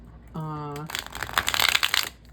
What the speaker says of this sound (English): look at that smooth shuffle